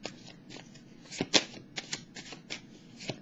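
Tarot cards shuffled by hand, a run of soft riffling flutters with a sharper snap near the middle, close and fairly quiet with no talking.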